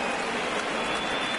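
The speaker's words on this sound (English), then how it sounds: "The rain coming down as it is, we are in for a long delay." Rain pours steadily as a dense, even hiss through a stadium scene in the baseball video game MLB The Show 19, with no talking heard.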